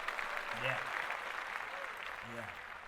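A talk-show audience claps briefly, soft and a little distant, while people talk over the applause.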